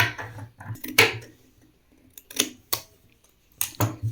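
Scissors cutting uniform fabric along a marked neckline, giving a few short, close snipping bursts separated by quiet pauses.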